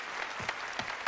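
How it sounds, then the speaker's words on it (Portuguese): A crowd applauds for Alice The Wall, steady dense clapping at moderate distance with a few sharper claps and faint crowd noise beneath. "Palmas para ele, quem merece!"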